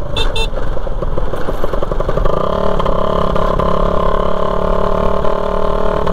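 A Suzuki Raider 150 motorcycle with a broken exhaust muffler runs loud and rough, rattling and sputtering with a harsh, unmuffled roar that settles into a steady drone, close by.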